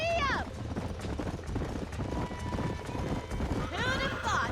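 Horse hooves clip-clop at a steady galloping rhythm while riding in Red Dead Redemption, close and continuous, with whinny-like calls at the start and end.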